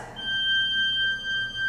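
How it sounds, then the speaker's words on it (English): A soft, pure, flute-like organ tone holds steadily, thin and fairly quiet over a faint low hum. "that kind of sounds like a flute."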